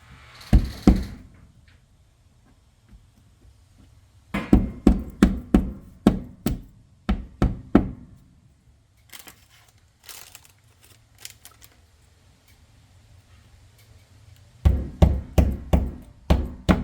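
Wall anchors get hammered in with clusters of sharp, close knocks, quick rhythmic strikes in bursts separated by quieter pauses with a low background hum.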